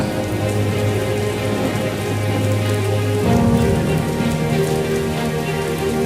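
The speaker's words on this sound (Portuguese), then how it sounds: "Chuva, chuva." Heavy rain pours steadily onto a surface, a dense, loud, continuous hiss and patter with no pauses and no voices.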